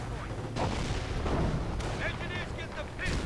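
A German anti-tank gun and a StuG 42 assault gun fire in a World War II strategy game. Heavy booms and blasts sit over a constant rumble of battle, with a voice faintly audible in the mix.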